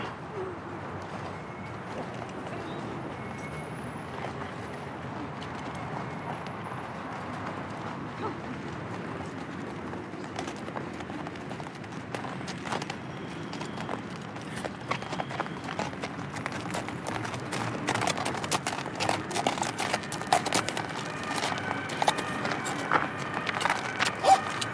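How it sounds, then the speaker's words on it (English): A horse ridden at a walk through palace gardens after an indoor riding school, steady clip-clop of hooves building louder and more distinct over the length, with faint birdsong and outdoor ambience behind. "She must keep Burmese at the walk at all times."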